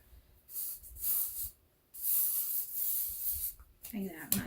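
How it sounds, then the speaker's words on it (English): A can of hairspray is sprayed onto styled curled hair in several short hissing bursts separated by brief pauses, close and fairly quiet, with a light rustle at the end. "Now that I'm done, I'm gonna use my hairspray."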